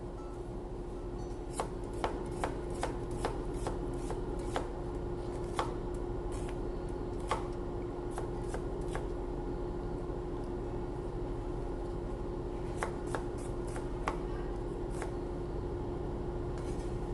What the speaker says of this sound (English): And then I sliced up some onions.